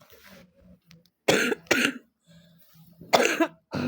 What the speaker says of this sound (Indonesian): Agak batuk ya.